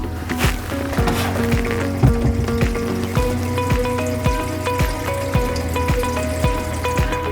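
Water drains from a newly plumbed sink with the drain opened, a continuous gurgling rush with rhythmic glugging pulses roughly every half second, close and steady throughout.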